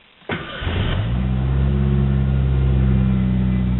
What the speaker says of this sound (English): go ahead and give the car a start.